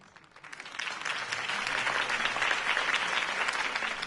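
A crowd at a campaign speech in Batman: The Telltale Series breaks into applause that builds quickly from quiet and holds as a dense, steady clapping roar.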